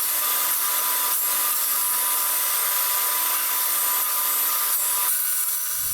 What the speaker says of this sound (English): I use the table saw.